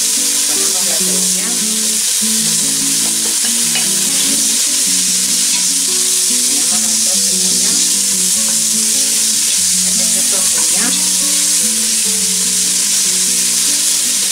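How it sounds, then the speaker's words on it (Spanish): Garlic sizzles loudly and continuously in hot oil in a pan, a dense close crackle, while soft background music plays beneath. "Vamos a empezar a sofreír el ajo"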